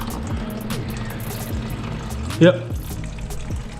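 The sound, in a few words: Honda Civic coolant draining into a bucket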